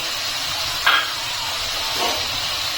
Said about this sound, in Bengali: এখন আমি পেঁয়াজটাকে একটু ভেজে নেব